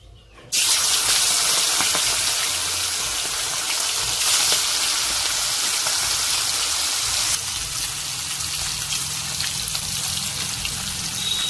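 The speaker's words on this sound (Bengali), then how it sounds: "তেল গরম হয়ে গেছে, মাছ দিয়ে দিচ্ছি।" Salted snakehead fish coated in turmeric drops into hot oil and sizzles: a sudden, loud, steady hiss that starts abruptly and carries on without letup, close by.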